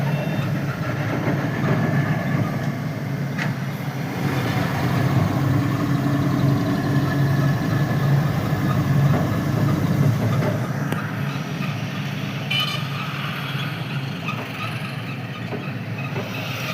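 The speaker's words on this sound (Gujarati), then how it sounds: "કેટલું ટ્રાફિક જામ હે।" Queued vehicles idle at the Kopta railway crossing in a steady, dense engine rumble, with faint distant beeps now and then and no voices.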